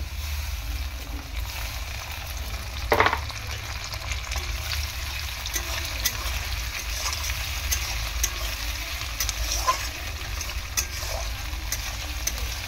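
Chopped tomatoes and onion frying in oil in a pan, giving a steady, close sizzle with a few brief scrapes from stirring and no talking.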